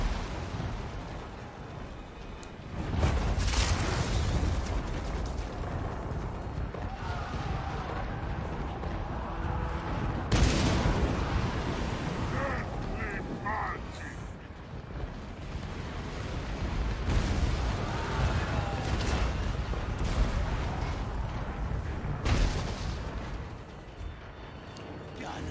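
Artillery fires in Total War: Warhammer II battle gameplay, with deep booming impacts and rumbling bursts rising over a continuous dense battle din, moderately loud and layered throughout.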